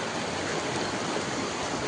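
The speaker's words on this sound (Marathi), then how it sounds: "फुल क्षमतेनं पाणी वाहते." The flooded Maan river, running at full capacity, rushes in a steady, dense roar of flowing water with no voices over it.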